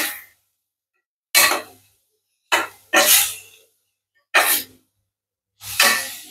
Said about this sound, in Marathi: आता हे सर्व चांगलं परतून घ्यायचं आहे।